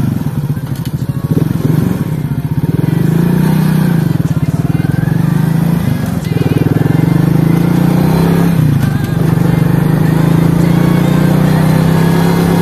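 A Spark SP125C-2C moped engine runs steadily and loudly up close for the whole stretch, its pitch rising and falling as it pulls away, with talk in the background.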